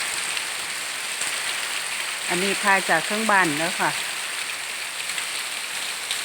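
Steady morning rain patters on a rubber plantation in Bueng Kan, Thailand, a broad hiss running through the whole span while someone talks briefly in the middle.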